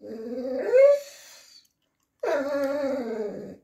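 A greyhound moans and whimpers for a tasty treat, voicing a rising, wavering whine, a short pause, then a longer drawn-out grumbling moan, close and alone.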